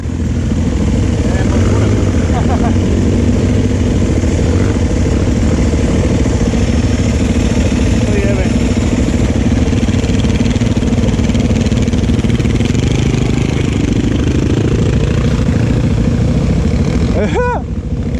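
A nearby vehicle engine runs continuously with a steady low drone while climbing a muddy, snowy mountain track, staying loud throughout, with a brief higher whine near the end.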